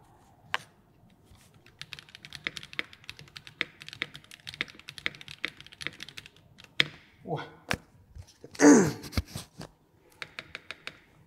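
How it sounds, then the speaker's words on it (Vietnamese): Mechanical keyboard typing on an aluminium RE65 board with no foam inside, its space bar fitted with Tropical Water switches: a run of close, crisp clacks and taps in uneven rhythm, with a few louder, deeper thuds near the end. "Và đây cũng là một trong những con cho cái tiếng space cực hay luôn."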